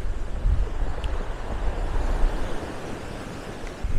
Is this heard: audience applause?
no